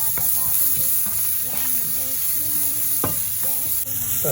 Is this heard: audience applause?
no